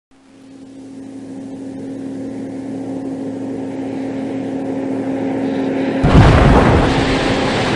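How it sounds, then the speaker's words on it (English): An armored van smashes through a cement wall at a manufacturing plant in a 1995 Spider-Man CD-ROM comic game: a steady engine drone builds, then a loud burst of crashing impact erupts near the end. "A heavily armored van careens through a cement wall at an Osborn manufacturing plant."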